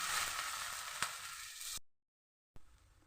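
A dosa fries in sesame oil on a hot pan, a loud steady sizzle and crackle that cuts off abruptly, then returns more faintly.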